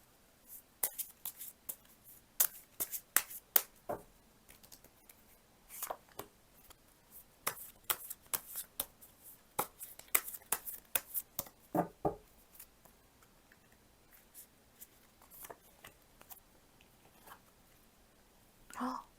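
Oracle cards shuffled and handled up close during a tarot reading, giving a string of soft, irregular flicks, taps and rustles that thin out toward the end.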